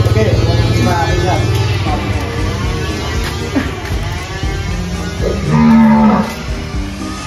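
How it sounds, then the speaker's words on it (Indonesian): Cattle at a farm moo loudly and close by, with several drawn-out lowing calls, one especially strong near the end, mixed with people talking. "tujuan saya kesini akan menjemput sapi"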